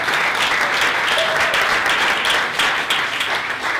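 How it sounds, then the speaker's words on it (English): An audience at the Staten Island Artists Building applauds its host, John Salas, with loud, dense, steady clapping that fills the room evenly throughout. "Please give a round of applause to our host"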